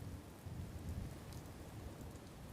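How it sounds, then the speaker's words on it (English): Steady rain falling in the Fallout 4 video game world, a dense low hiss and patter with occasional faint rumbles, even and continuous throughout. "it's raining, right?"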